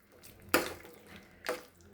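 Water sprinkled onto chicken fry in a hot pan gives two short sizzling bursts about a second apart, close and fairly loud against a quiet kitchen background.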